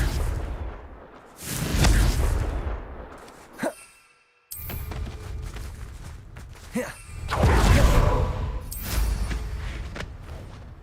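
In Hogwarts Legacy, a Confringo blasting spell goes off with booming, rumbling bursts, a sudden cut to silence in between and then another swelling roar, with brief whooshes and thuds.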